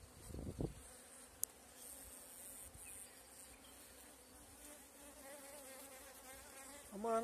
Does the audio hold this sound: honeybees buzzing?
yes